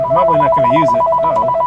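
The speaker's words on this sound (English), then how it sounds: "that's a phone" Steady electronic telephone ringing from an in-game phone in Fallout 4, a repeating two-tone trill that stays loud and continuous, with someone speaking briefly over it.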